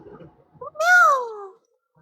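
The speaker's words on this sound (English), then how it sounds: "Meow, meow." A cat lets out a single drawn-out meow, close and clear, rising then falling over about a second, after a few faint short sounds and followed by silence.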